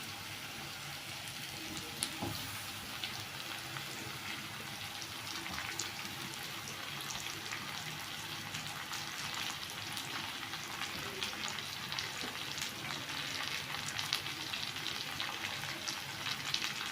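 Mashed potatoes are added to browned onions in a pan, and a steady soft sizzle and crackle of frying goes on throughout with faint stirring ticks.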